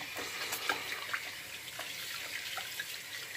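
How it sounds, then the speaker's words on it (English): Hands being washed of Lock Hart's Goon Grease pomade under running tap water, a steady close splashing stream with small irregular splashes and no voice. "I'm washing it off right now, trying to wash it off."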